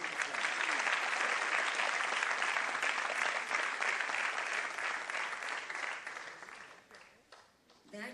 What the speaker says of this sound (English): Let's give her a very big applause.